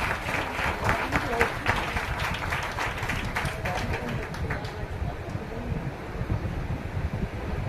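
An audience claps steadily through an award ceremony, a dense, fairly loud patter of many hands that eases slightly toward the end, with voices murmuring underneath.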